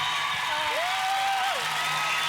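Studio audience at Australian Gladiators cheering and applauding, a steady broad wash of crowd noise throughout, with a faint tone rising and falling in the middle.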